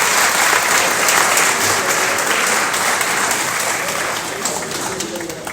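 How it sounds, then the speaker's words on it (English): Audience applause at a National Health Insurance Authority event, steady dense clapping that stays loud across the clip and eases slightly toward the end, with no talk over it. "So let's clap for the government."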